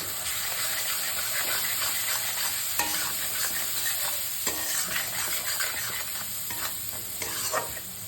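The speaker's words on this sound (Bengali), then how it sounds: "এতে ফোড়ন দিয়েছি, রাঁধুনি ফোড়ন আর পেঁয়াজ।" Green chilli, cumin and turmeric paste with radhuni seeds and onion sizzles steadily in hot oil, loud and close, with intermittent scraping strokes of a spoon stirring the pan.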